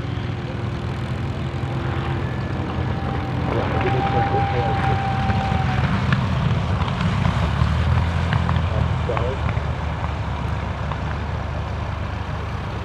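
A vintage warbird propeller aircraft, Slovak-registered, drones steadily overhead approaching to land at an airfield, a constant low engine rumble lasting throughout, with a voice talking faintly underneath.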